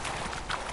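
Roach the horse galloping in The Witcher 3, a fairly faint rapid clip-clop of hooves under a hazy background, brief and continuous.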